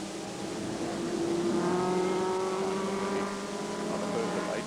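Mini race cars in the 1981 Super Mini Series stream past at Amaroo Park, a loud, steady engine drone with rising harmonic whine across the whole stretch, heard under a commentator's voice.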